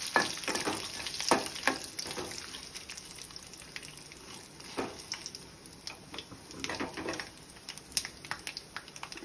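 Green chilies and curry leaves fry in hot oil in a kadhai for daddojanam, a steady crackling sizzle broken by irregular sharp spits and stirring scrapes, close and moderately quiet.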